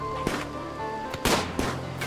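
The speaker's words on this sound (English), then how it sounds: "The colonists open fire upon the wolverines." Colonists fire guns at approaching wolverines in the video game RimWorld, with three or four sharp, punchy shots spaced irregularly over a steady tonal music bed.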